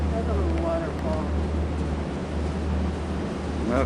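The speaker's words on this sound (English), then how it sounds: "That's a little waterfall." A small waterfall on a trip through Norway and Sweden sends out a steady, even rush of water, heard alongside wind buffeting the microphone and a low constant hum.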